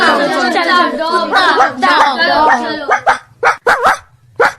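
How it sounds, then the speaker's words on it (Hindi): A dog barks close and loud in a run of quick yaps, ending in sharp separate barks with short silences between them. "सही है, कुत्ता, डॉग।"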